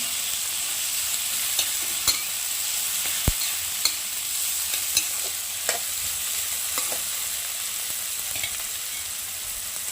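Chopped tomato sautés in oil with vegetables for a quick spicy shev breakfast dish, a bright continuous sizzle with occasional sharp ticks of a spoon against the pan.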